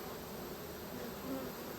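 Honey bees buzz around an open hive during an inspection, a steady, dense drone of many wings close by, continuous and unbroken with no talking.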